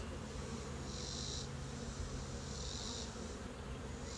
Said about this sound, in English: there's a lot of calm bees walking around doing their thing